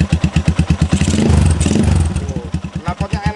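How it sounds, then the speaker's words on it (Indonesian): A Yamaha Scorpio 225 single-cylinder cafe racer motorcycle engine idles with a steady, rapid pulsing thump, briefly revving louder in the middle before settling back to its chugging beat; a voice talks over it. "ini untuk suara dari motor Yamaha Scorpio angkringan racer ini"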